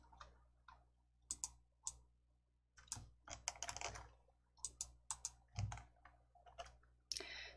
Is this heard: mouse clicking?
yes